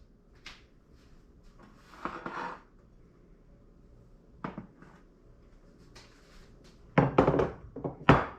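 Metal loaf pans are fetched and handled in a kitchen, giving scattered clunks and knocks. Most are sparse and moderate in level, with a louder cluster of clattering hits near the end and no speech.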